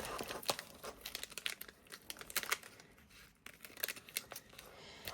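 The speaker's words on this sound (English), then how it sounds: "my smaller scissors are here. Cut that at the top." Small scissors snip through a paper bag while a journal is being made, close and crisp. Quick irregular cuts mix with papery crinkling and rustling of the bag.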